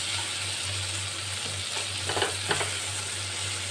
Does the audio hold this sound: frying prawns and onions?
yes